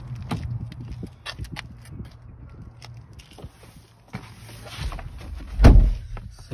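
Someone gets into a car: rustling and shifting movement, then a heavier thump near the end that fits a car door shutting, close by with no talking.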